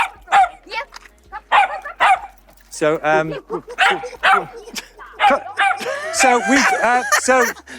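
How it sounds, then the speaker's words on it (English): A dog barks and yips repeatedly in the background while people talk over it, the barking mixed in with lively chatter. "Oh, we've got the barking dog."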